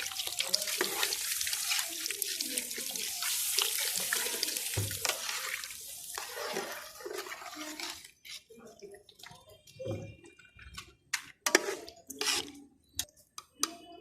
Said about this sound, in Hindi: 1 किलो कच्ची बासमती चावल है, इसमें 2 किलो हम पानी डालेंगे।